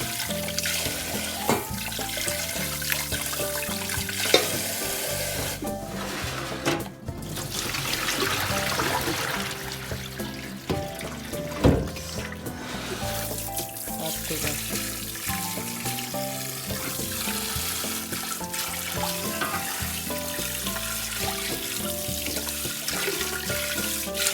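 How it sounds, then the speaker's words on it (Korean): Tap water runs steadily while ingredients for Korean pork bone soup, gamjatang, are rinsed in a kitchen sink, a continuous splashing rush that stays loud and close with no talk. "한 번만 헹궈 주시면 돼요."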